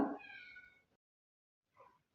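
A cat meows once, a clear drawn-out cry close by, followed after a short silence by a second, fainter and briefer meow.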